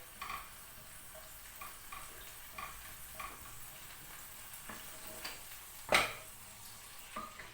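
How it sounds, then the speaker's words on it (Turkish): Butter melting in a pan used for chicken gives a soft, quiet sizzle, with light clicks and taps of a utensil now and then and one louder scrape, and no voices. "Şimdi ben tavuğun tavasında tereyağı eritiyorum arkadaşlar"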